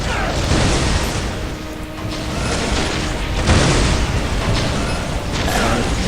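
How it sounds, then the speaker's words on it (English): Missile turret fire and explosions fill a Dawn of War strategy game battle with a dense, continuous roar of booms and blasts that swells and falls throughout. "we need to so we get that missile turret firing on that enemy"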